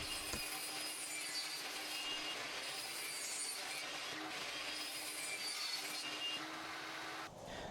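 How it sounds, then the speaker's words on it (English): A table saw whines steadily through wooden picket fence pieces, a continuous close, bright cutting drone that drops off at the end of the cut. "I could use my table saw and trim down the pieces so that they would be equally sized"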